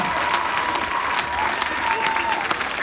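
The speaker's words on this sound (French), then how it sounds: "Vos applaudissements pour nos champions de France." A crowd at an elite prize-giving ceremony in Lamotte applauds French champions, dense continuous clapping with a few sharper claps standing out, over a faint steady tone and some background voices.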